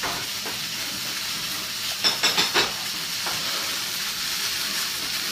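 Garlic and vegetables hit a hot pan with a steady, even sizzle and hiss, broken by a few brief louder crackles and stirring sounds partway through; no talking.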